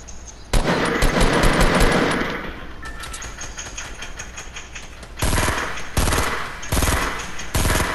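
Video game gunfire comes as loud rapid automatic bursts, one long stream followed by a quieter stretch and then several punchy separate volleys near the end, with no voices over it.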